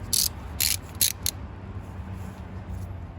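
A half-inch-drive ratchet with a 24mm socket works the fuel filter on a Ford F350, giving four short bright ratcheting bursts in the first second and a half, then only a low hum of background noise.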